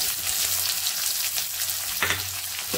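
Onions fry in hot oil with panch phoron and dried chilies for a drumstick and fish curry, a dense, loud, continuous sizzle close by with a brief burst of spatter near the end and no voices.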